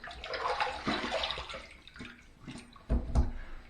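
Water runs and splashes while a face is rinsed between shaving passes, a continuous close stream ending in two louder splashes near the end.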